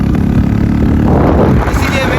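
A motorbike engine drones steadily and loudly throughout as a friend rides it, with wind rush and road noise and no clear speech.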